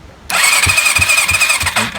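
Kawasaki ZL600 Eliminator motorcycle engine cranking over on the starter during a compression test, a loud whining starter with a rhythmic chugging pulse, close by and alone.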